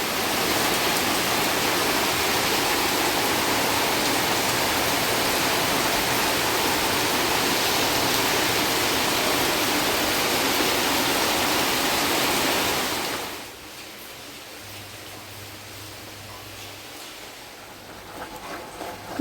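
Heavy rain falls in a steady, loud, even rush for most of the stretch, then cuts abruptly to a much quieter background with faint patter near the end.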